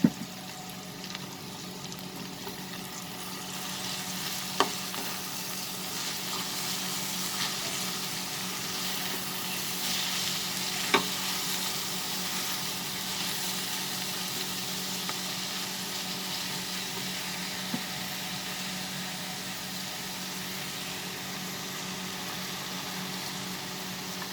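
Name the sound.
fenugreek (methi) leaves added to frying potatoes, sizzling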